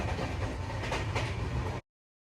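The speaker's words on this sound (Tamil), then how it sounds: "இந்த ஸ்டேஷன்ல ட்ரெயின் நிக்கல. ரொம்ப வேகமா போயிட்டுருக்கு." Chennai–Madurai Tejas Express train passing a station at speed without stopping, a steady loud rumble of wheels and carriages with a faint rhythmic clatter that ends abruptly.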